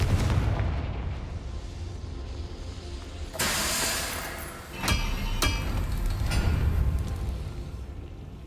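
Explosive Confringo spell blasts in the Hogwarts Legacy video game: a sharp, loud burst followed by a couple of quicker cracking hits over a steady game soundscape.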